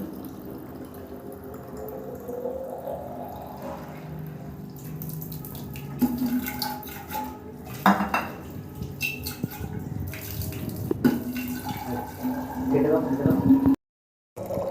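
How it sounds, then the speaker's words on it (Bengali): Water runs from a municipal tap with a cloth tied over its mouth, filling containers at home; the flow is steady and moderate, with clinks and knocks on top and a person talking throughout. "এখান থেকে আমরা জল ভরে নিই। এখন জল ভরছি আমি।"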